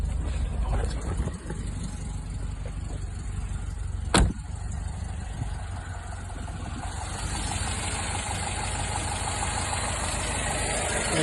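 A classic Lancia HF 2000 Coupe engine idles with a steady low rumble throughout, interrupted by one sharp click partway through.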